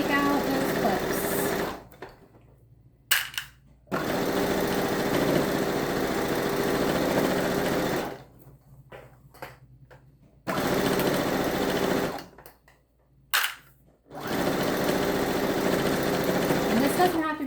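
Sewing machine stitching the edge of a baby blanket, its steady mechanical whir running in three long loud bursts separated by short pauses for a backstitch.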